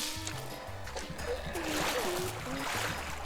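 A character entering water in the Neighbours Back From Hell video game makes a short splash and sloshing, heard over light game music with a soft tonal chirp.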